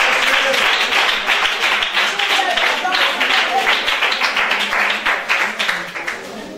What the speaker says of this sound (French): Applaudissez pour SP.